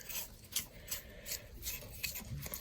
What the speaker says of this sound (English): Just kind of carefully brushing that junk away and being very careful not to disturb that paper.